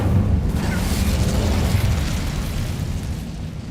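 The Incendio fire spell cast in Hogwarts Legacy, a sustained loud whooshing roar of flame with a low rumbling body, continuous for several seconds without talk.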